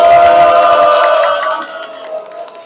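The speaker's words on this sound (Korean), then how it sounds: "열렬한 박수 소리와 함께" An audience at a church seminar lecture applauds and cheers: loud group shouts and clapping up close, with voices ringing out and then fading to a quieter murmur.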